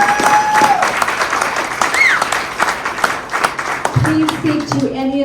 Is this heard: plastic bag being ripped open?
no